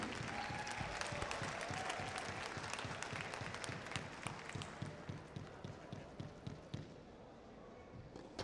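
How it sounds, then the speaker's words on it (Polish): Applause from the audience fills the hall before a Polish senior men's squash championship final, steady dense clapping throughout with a few sharper claps, slightly tapering near the end. "jeszcze raz brawa"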